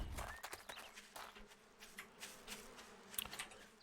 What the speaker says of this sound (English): Got bees at the stump.